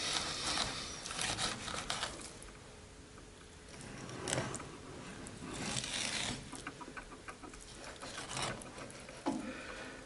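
A knife works through a raw Irish Atlantic salmon being cut into steaks, giving faint, close, intermittent rasping and scraping strokes with soft rubbing between them.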